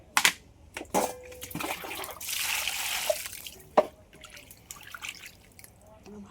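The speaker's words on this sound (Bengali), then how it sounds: "বাজার থেকে কাটা মাছ তো ভালো করে ধুতে হবে" In a kitchen, freshly cut fish is washed under water, heard as short splashes, drips and a brief stretch of running water with quiet pauses between.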